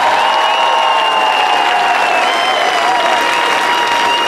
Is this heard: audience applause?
yes